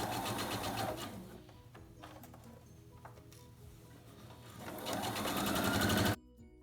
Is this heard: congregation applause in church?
no